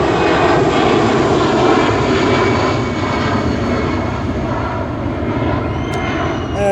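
An EasyJet airliner takes off with a loud, continuous jet engine roar that stays strong and close for the whole stretch, alone without talk.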